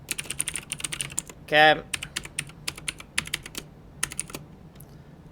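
Close, quick clacking of a computer keyboard in steady bursts of keystrokes, briefly broken by a short spoken word from a person at the desk.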